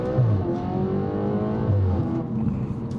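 An Audi RS5 engine revs repeatedly toward its 5,000 RPM redline, loud and close, with rising and falling pitch sweeps and no talk over it.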